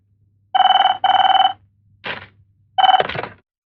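Telephone ringback after dialing a call, two long clear rings in quick succession, then a short burst and a third ring cut off by a click as the line is answered; close and loud over a low hum.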